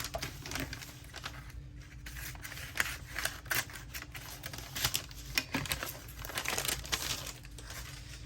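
Scissors cut through a thin decorative paper napkin, giving a run of quiet, irregular snips and rustling crinkles close by.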